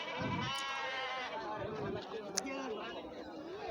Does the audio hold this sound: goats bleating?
yes